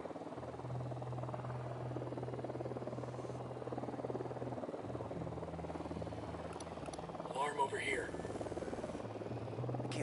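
A patrol helicopter in Operation KingFish thrums steadily overhead, a low rotor drone that carries through the whole stretch, with a brief burst of other game noise near the end.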